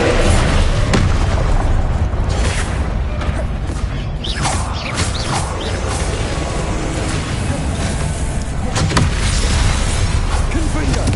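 Confringo fire spell blasts in Hogwarts Legacy crash through a dense, loud game battle, with repeated booming explosions and crackling bursts over a constant roar, a voice talking underneath.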